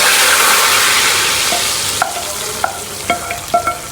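Steady hissing sizzle of hot oil, with a few sharp crackles and pops near the end as the tempering is poured into whole masoor lentils.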